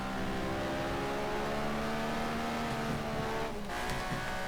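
A drift car taking the tightest, slowest corner of a race course, its engine droning in a steady held tone that wavers through the bend, fairly close, with a brief break in the sound near the end.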